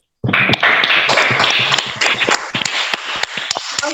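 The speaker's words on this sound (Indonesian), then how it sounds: "Mari kita tepuk tangan buat Fadli sama Anugrah." A classroom of students claps together for two classmates who answered correctly, a dense, steady burst of many hands filling about four seconds after a brief silence.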